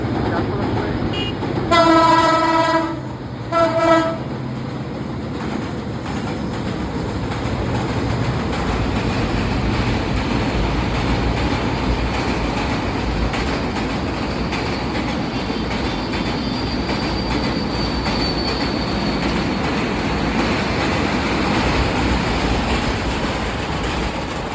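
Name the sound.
fast train passing with horn and rattling wagons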